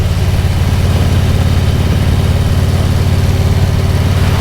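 A motorcycle engine fitted with an S&S 465 cam runs hard and loud with a dense, rapid pulsing exhaust rumble, steady throughout at high revs, heard up close.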